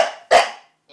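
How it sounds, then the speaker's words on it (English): A single loud, close dog bark, preceded by a softer huffing bark and followed by a faint trailing whine. "You're not even barking properly."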